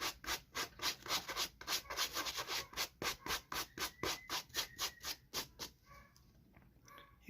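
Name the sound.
hard bristle brush scrubbing suede of World Balance shoe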